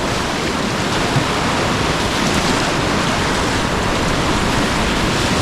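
Steady, dense rush of choppy river water around a kayak, with constant broadband surging and splashing, loud and close, no voices.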